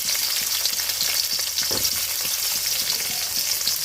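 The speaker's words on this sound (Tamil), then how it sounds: "இதெல்லாம் நல்லா வதக்கி வச்சிடலாம்" Small shallots, cinnamon and a bay leaf sizzle and crackle steadily in hot oil for goat head curry, a dense, continuous frying hiss with faint stirring taps.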